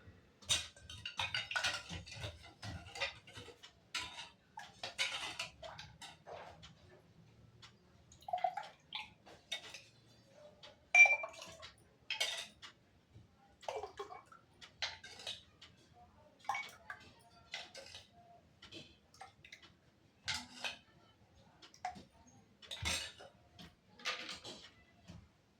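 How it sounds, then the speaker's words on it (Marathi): Ice cubes dropped into homemade raw-mango panha in a kitchen, giving a string of sharp, separate clinks and taps over about twenty-five seconds, fairly quiet and close, with light handling noise between drops. "आणि त्यामध्ये टाकूया बर्फाचे खडे।"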